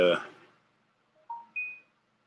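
An Android phone sounds three short rising electronic tones in quick succession, clear and close, right after a brief burst of speech.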